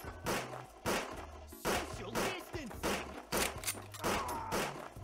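Repeated loud gunshots from shooting enemies in the video game Customers From Hell, coming in sharp bursts about every half second, with someone talking over the firing.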